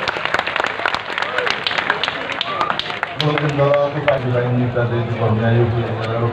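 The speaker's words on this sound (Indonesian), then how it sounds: "sekarang kita tepuk tangan semua untuk Mas Sigit." An audience at a gathering breaks into a burst of dense clapping for a few seconds, then gives way to voices and a sustained tonal sound that carries on loudly under the crowd.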